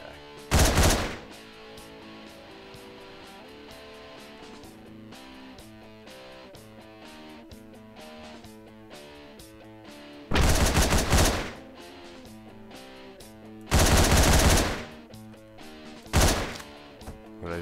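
Several loud bursts of gunfire from Hotline Miami come in four separate volleys over a constant electronic music track, some short and some lasting about a second.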